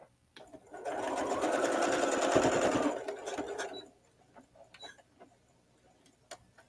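Domestic sewing machine stitching a seam during an embroidery session, a steady fast whirring run for about three seconds that then stops, followed by quiet handling clicks.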